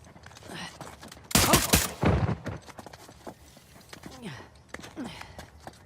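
Gunfire in the video game Uncharted: The Lost Legacy, a loud cluster of close shots bursting out in the middle amid rustling movement, with voices talking before and after.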